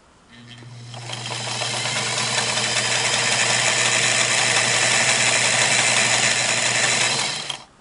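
A restored Singer Model 237 sewing machine runs steadily for about seven seconds, its motor hum and rapid needle clatter starting up, holding an even pace close by and then stopping, with no one talking.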